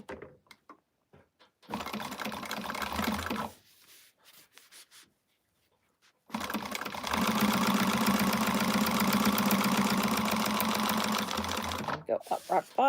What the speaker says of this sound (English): So I'm going to sew on the divider parts first before I do that.